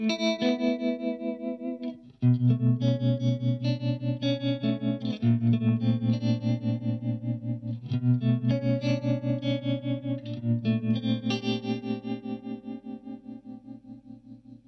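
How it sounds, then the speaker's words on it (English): Electric guitar played through an Eventide UltraTap delay pedal set to a quirky tremolo effect: sustained chords pulse in a steady, rapid amplitude chop, loud and close with a dense chorused, effected tone, no talking. "So this is a quality little quirky tremolo sound."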